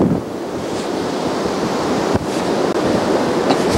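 Strong gusting wind roaring across an outdoor microphone during the 2011 Chicago blizzard, a loud continuous buffeting rush with brief dips, no voices heard.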